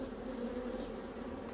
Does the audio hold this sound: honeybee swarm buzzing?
yes